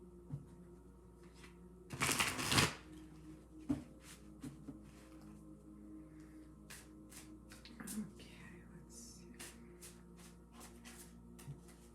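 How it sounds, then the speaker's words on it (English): A quick burst of tarot cards being riffled and shuffled, followed by scattered soft taps and flicks of cards in a quiet room. "One more shuffle for Aquarius"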